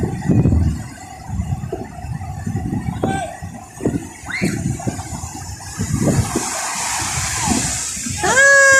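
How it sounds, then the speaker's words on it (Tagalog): Sea waves building and crashing on a shore, a broad rolling wash with surges that grow louder, while people talk nearby and a brief high whistle-like tone cuts in near the end. "lumalakas na yung alon guys"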